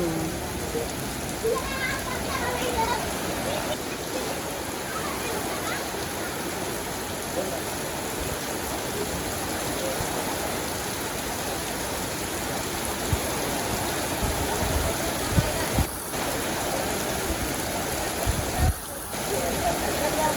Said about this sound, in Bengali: দেখেন কখন বৃষ্টি নামছে